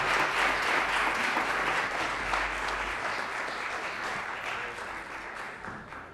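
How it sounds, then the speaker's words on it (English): Audience at a mock city council meeting inside a city hall clapping steadily, a dense close round of applause that slowly fades over about six seconds. "Give her an applause."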